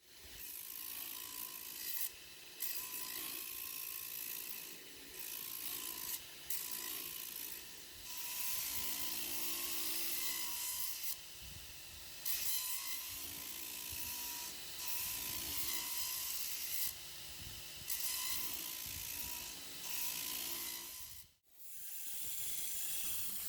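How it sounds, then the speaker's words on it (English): A surface grinder cleans up a Damascus steel bread knife blade forged from ball bearings, giving a steady, loud mechanical grinding drone with a rhythmic ratcheting texture that pulses throughout and cuts out briefly near the end. "I'm gonna put it on the surface grinder, and I'm gonna go ahead and clean it up."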